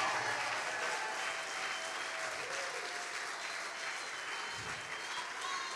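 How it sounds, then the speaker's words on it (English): A church congregation breaks into steady, sustained applause, a dense roomful of hands clapping together at an even level for several seconds, with a faint voice beneath. "Yes, will you clap for Jesus Christ?"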